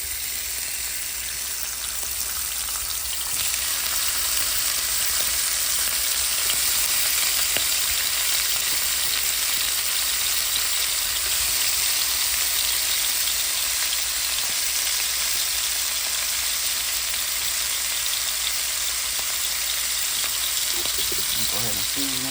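Shrimp sizzle loudly in a pan with fried cabbage, a dense, steady frying hiss that continues throughout with occasional stirring scrapes.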